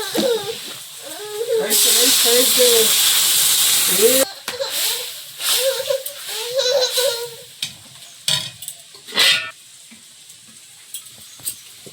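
A sudden loud hiss as water hits a hot pan of frying eggs, sputtering for a couple of seconds, followed by softer sizzling and clattering while a person talks.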